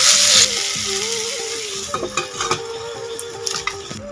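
Taro stolons are stir-fried in a pan with salt and turmeric, a soft continuous sizzle broken by scraping stirring strokes and occasional sharp clicks of the utensil against the pan.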